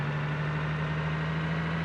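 A car engine idling in the BeamNG driving game gives a steady, even drone with a strong low hum that holds constant and unbroken from start to finish.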